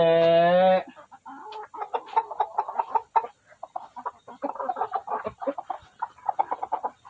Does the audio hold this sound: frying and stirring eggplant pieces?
no